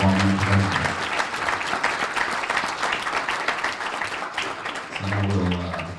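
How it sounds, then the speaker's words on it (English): An audience at a legislative forum gives a panel a steady round of applause, dense clapping that begins at full strength and fades a little near the end. "maybe we could give the panel a round of applause"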